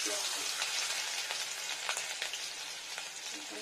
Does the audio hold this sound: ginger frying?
yes